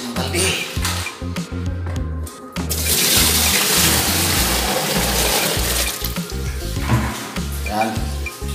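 A bucketful of water is poured into a washing machine drain under repair, a loud splashing gush that runs continuously after a brief start, with rhythmic low thumping beneath it.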